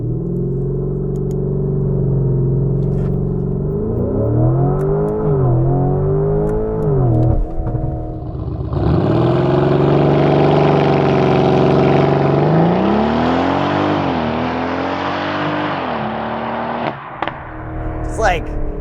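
A 2025 Lamborghini Urus SE launches hard from a standstill. The engine roars loudly and climbs through several gear changes with a rising, surging note, and people talk over the noise.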